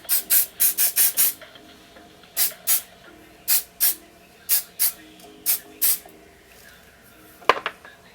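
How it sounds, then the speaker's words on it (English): Wig spray hisses from a can in quick short bursts, a rapid cluster of five followed by spaced single sprays, loud and close, with a faint thump near the end. "more wig dough spray"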